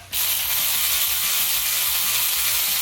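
A bolt being run by hand through tight threads in an LS cylinder head, a continuous close, loud ratcheting whir with a rapid rhythmic clicking pattern.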